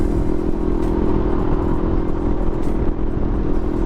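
Sinnis Terrain 380 motorcycle cruising on a dual carriageway, a steady loud engine drone blended with heavy wind rush, constant and unbroken throughout with no talking.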